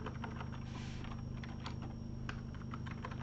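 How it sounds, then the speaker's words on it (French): Someone types a command into a computer terminal on a keyboard. The keystrokes are quick, light and steady clicks, close but quiet, over a constant low hum and with no voices. "Je vais taper node-v."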